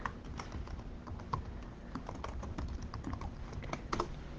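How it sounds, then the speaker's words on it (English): Fingers type on a computer keyboard in quick, uneven runs of soft clicks, quiet and close, with no talking over them. "Let me type something."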